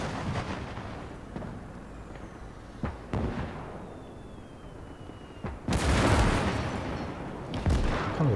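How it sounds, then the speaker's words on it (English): A big anti-tank gun firing in the real-time strategy game Gates of Hell, during a German campaign battle. Several heavy booming shots and distant impacts roll over a rumbling battlefield, with a louder blast near the end and no speech. "That's a big anti-tank gun shooting at him."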